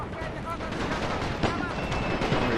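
Dense, continuous gunfire and artillery-like booms roll through a World War I battle video game, a steady wash of distant shots with a sharper burst midway, while someone talks over the din.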